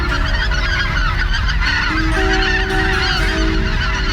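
Geese honk loudly and continuously at the Ventė Cape on the Curonian Lagoon, a bird-banding site, with many overlapping calls and a steady, dense flock chorus close by throughout.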